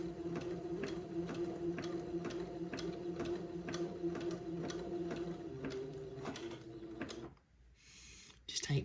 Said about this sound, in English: I'll begin to zigzag this lace into place